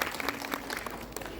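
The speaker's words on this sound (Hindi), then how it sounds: "बहुत जोरदार तालियों के साथ डॉक्टर अजीत पवार का स्वागत।" Audience applause at a cultural program event, a brief patter of clapping from a crowd, fairly faint and distant.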